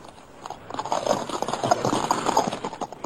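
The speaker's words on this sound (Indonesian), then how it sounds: "Mengapa memacu kuda dengan kencang?" Horse hooves clip-clop at a fast gallop in an Indonesian radio drama, a steady rapid beat of hoofbeats, fairly close and loud, running throughout without talk.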